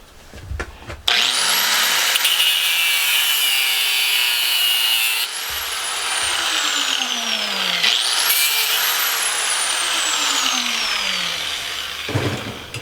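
Angle grinder cutting the end off a piece of scrap brass, a loud continuous high whine through two long cuts with a brief dip between them, the motor spinning down at the end.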